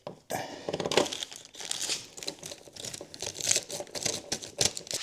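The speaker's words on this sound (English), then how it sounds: "pull the film off the edges just a hair" Protective film peeled off a MINI John Cooper Works tail light, close crinkling and crackling plastic with quick irregular bursts throughout.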